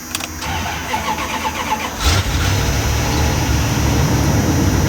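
An engine cranks briefly, catches with a sudden burst, and settles into a steady, loud idle that continues to the end.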